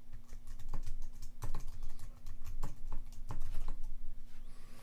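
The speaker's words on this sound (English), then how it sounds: "Type in the email address of the person you want to send the invitation to." Someone types an email address on a computer keyboard, a close, steady run of quick key clicks with a few heavier taps and no speech.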